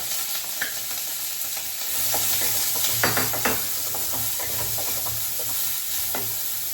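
Chopped shallots fry in a pan with a steady close sizzle, a sharper burst of hissing and spatter as they settle, and light stirring scrapes, with no voices.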